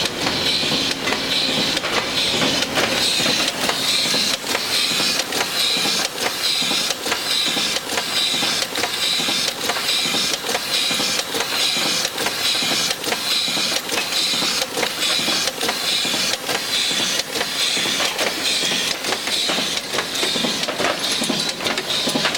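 Coin minting press striking copper coins at about seventy a minute, a steady mechanical clatter with regular thumps repeating evenly throughout, close and continuous with no talk.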